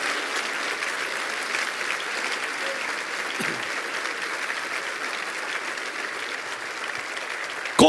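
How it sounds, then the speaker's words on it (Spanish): A large church congregation applauds steadily and continuously, a dense wash of clapping with no pauses. "¿Cuánto le da un aplauso al Cristo de la gloria?"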